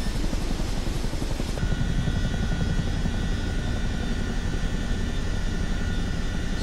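A CH-47D Chinook helicopter taxiing in the flight simulator MSFS 2024 gives a steady, loud rotor and turbine drone, with a dense low rumble that continues without a break and a high whine entering partway through.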